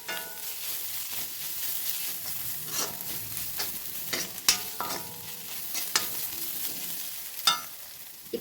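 Ginger paste and turmeric fry in oil, a soft, even sizzle punctuated by occasional sharp spoon scrapes and clicks against the pan, close up with no talking.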